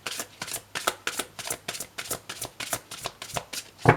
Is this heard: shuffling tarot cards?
yes